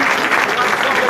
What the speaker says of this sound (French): je vous demande d'applaudir les deux bureaux qui ont donné le match